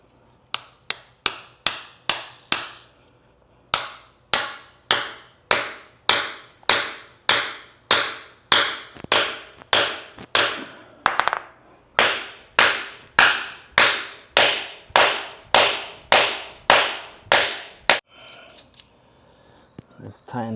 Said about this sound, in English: Let's hammer one in.